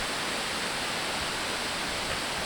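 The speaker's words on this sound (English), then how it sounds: "Crabtree Creek making its way down off of Pinnacle Ridge" Steady rushing water of Crabtree Creek tumbling downhill off Pinnacle Ridge, Virginia, a constant broad hiss with no voices.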